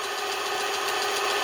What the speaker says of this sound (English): That's a smoke motor.